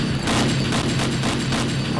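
Rapid aircraft cannon fire in a war flight video game, a steady dense rattle of bursts pulsing about four times a second over a low droning engine, loud and close.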